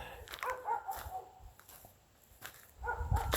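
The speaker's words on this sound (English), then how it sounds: "I never heard that dog before" A dog barks in a few sharp bursts, spaced apart and moderately distant, with quiet room noise between them and no speech.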